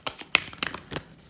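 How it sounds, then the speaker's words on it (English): Tarot cards are shuffled by hand, a quick series of soft papery riffles and slaps, about four close bursts in just over a second, faint and close-up. "I'm going to shuffle the cards and see what comes out for a yes or a no."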